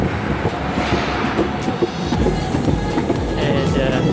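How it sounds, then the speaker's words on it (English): Constant low rumble and rattle from inside a moving train, with a steady roar and occasional soft knocks. "no video because I was in the train"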